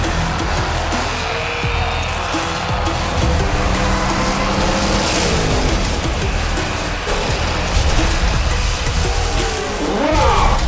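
Hot Wheels diecast cars, including a Bone Shaker and a Purgeinator, race down a track with a continuous loud rolling rumble and rattle that builds toward the end.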